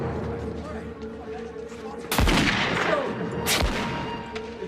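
Musket gunfire in a battle, with two loud, sharp shots cracking out a second or so apart over a continuous noisy bed of shouting and commotion.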